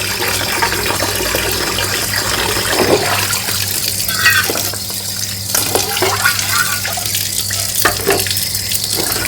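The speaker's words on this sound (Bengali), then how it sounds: "তো এবার জল ঝরানোর জন্য একটুখানি এগুলোকে আমি তুলে নিচ্ছি," Water drains and splashes steadily off boiled chicken pieces lifted from the pot for tandoori kebab, a loud, continuous running-water rush with no voices.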